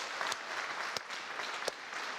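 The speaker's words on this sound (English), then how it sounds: "A round of applause for Katie." An audience claps steadily in continuous applause, a dense patter of many hands with no voices over it.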